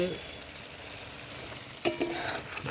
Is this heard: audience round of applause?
no